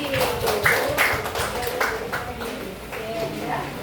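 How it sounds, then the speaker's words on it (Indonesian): A class claps hands for a pupil named Dwi in a series of sharp, quick claps, with a voice talking alongside. "Oke, tepuk tangan yang Dwi."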